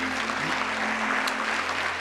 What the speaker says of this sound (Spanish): den un aplauso fuerte a Jesucristo